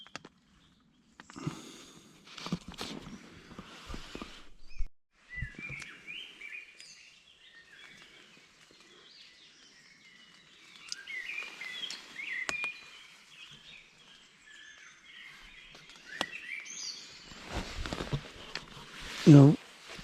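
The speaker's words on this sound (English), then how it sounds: "you can hear the birds singing" Birds sing and chirp faintly at dawn in wet, rainy countryside, scattered calls drifting in from a distance, while someone talks intermittently in the foreground.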